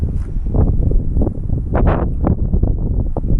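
Strong gusts drive wet snow against and around a 5x8 cargo trailer in sub-zero cold, a loud, rough wind roar buffeting the microphone in uneven surges, with no talking.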